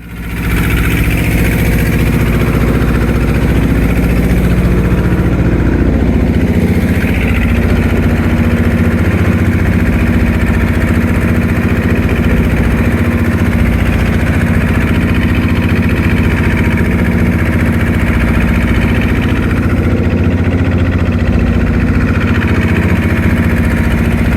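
A fishing trawler's engine runs steadily throughout at sea in the Bay of Bengal, a loud, constant low rumble and drone with no pauses.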